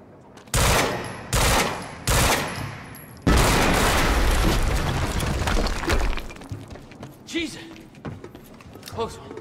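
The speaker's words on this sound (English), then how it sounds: "HQ, we just heard an explosion near the harvesting perimeter." In the video game Quantum Break, a few sharp bursts of gunfire come first, and then a long, loud blast with crashing debris slowly fades out.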